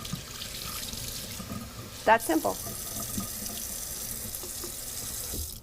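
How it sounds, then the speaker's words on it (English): Tap water runs steadily through an upside-down cold brew coffee filter from a Tupperware carafe at a sink, a constant wash of flow with a brief voice cutting in partway through. "I'm going to turn it upside down and just let the water run through"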